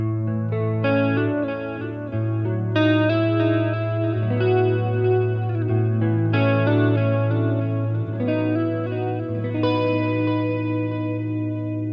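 An electric guitar plays chords and melody lines through the channel 1 clean tone of a Boss Katana-50 amp. The ringing notes carry a shimmering, chorus-like wash over a steady low hum, and no one speaks.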